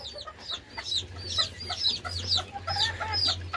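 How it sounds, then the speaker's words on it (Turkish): A mother hen clucks repeatedly, calling her chicks around her inside a cage shared with the rooster, while high peeping chicks chirp over her steady low clucking, close and moderately loud. "Annemiz de çocukların etrafına çağırıp duruyor."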